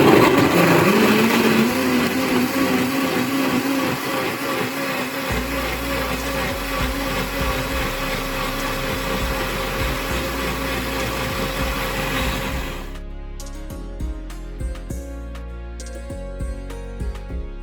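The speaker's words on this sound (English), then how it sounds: "So now time to blend all these ingredients." A kitchen blender whirs loudly and steadily through ginger shot ingredients, its motor pitch shifting as it starts, then it cuts off and leaves faint clinks and handling noise.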